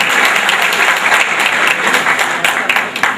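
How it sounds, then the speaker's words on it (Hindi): Loud, dense audience applause fills the whole stretch, steady clapping from a crowd welcoming a speaker onto the stage at a political gathering. "उनके लिए भी जोरदार तालियों द्वारा स्वागत करें।"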